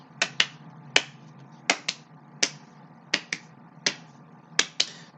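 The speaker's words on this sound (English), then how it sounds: "Now double claps." Hand claps in quick pairs, sharp and close, repeating roughly every three quarters of a second for several seconds with no voices over them.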